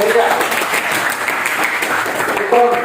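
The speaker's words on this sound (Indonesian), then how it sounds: "Tepuk tangan untuk kawan kita." Classroom applause for a classmate during a religious education lesson, a dense, steady patter of many hands clapping for about three seconds, fairly loud, with a voice faintly underneath near the end.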